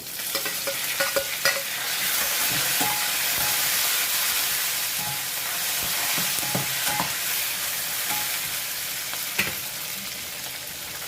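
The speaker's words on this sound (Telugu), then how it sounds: "ఈ స్టేజ్లో మనం దీంట్లో కరివేపాకు అల్లం పచ్చిమిర్చి ఇవి వేసేద్దాము" Curry leaves, ginger and green chillies sizzle in hot oil with a loud, steady hiss and scattered crackles and pops, close by, no talking.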